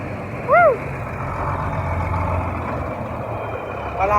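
A big truck passes close by on a road, with a steady loud rumble and a brief tonal honk-like sound near the start.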